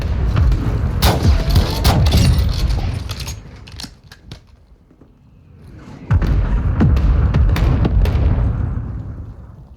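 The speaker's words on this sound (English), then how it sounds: "Mortar strike inbound now." Mortar strike explosions in the Modern Warfare 2 video game land as heavy, rumbling booms with crackling debris. They form two loud sustained barrages separated by a brief quieter lull.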